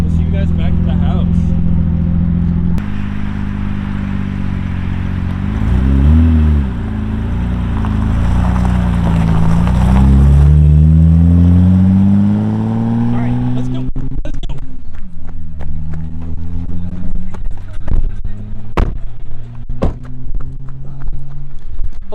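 A BMW E30 drives off, its engine revving and rising in pitch as it pulls away, then fading as road noise and clatter take over, with people talking over it.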